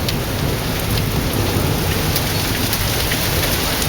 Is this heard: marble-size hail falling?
yes